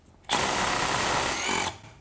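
A Milwaukee impact driver loosens a bolt set at 80 foot-pounds, giving one loud, close burst of rapid hammering that lasts about a second and a half, then stops abruptly.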